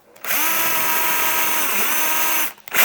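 A Japanese drill bit bores into a piece of jarrah hardwood, with a loud, steady power-drill whine that holds for about two seconds before winding down.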